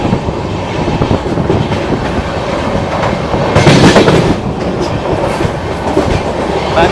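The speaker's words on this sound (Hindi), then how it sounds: "यहाँ भी हमारी ट्रेन तेलंगाना एक्सप्रेस को ओवरटेक कर रही है गजब की रफ्तार में मंचिरियाल स्टेशन में।" Bangalore Rajdhani Express racing past the Telangana Express at high speed through Mancherial station, a steady loud rumble of rail wagons with clickety-clack wheel beats, swelling briefly midway as the trains pass close.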